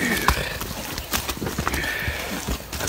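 A pony being moved into a horse trailer, its hooves clopping and knocking irregularly and up close, with movement and scuffling around it.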